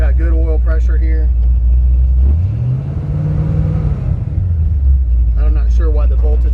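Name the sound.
1966 Ford F100 engine running with hood open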